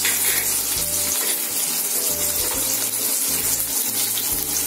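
Idli fried with green chili in a pan, giving a loud, continuous bright sizzle with occasional stirring, steady and close throughout.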